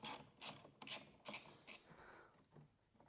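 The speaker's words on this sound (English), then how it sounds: "you're gonna disconnect this 10mm nut right here, or you're gonna loosen it up" A hand ratchet loosens the 10mm battery terminal nut on a Volkswagen MK8 GTI, giving about six quick bursts of clicking pawl teeth with short pauses between them, close up and fairly quiet.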